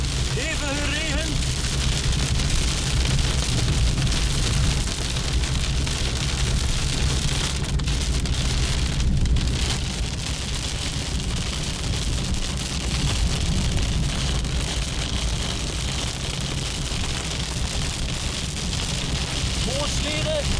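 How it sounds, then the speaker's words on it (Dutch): Heavy rain pours steadily during a thunderstorm near Ieper, a dense continuous roar on surfaces throughout, loud and close with no break. "Hevige regen."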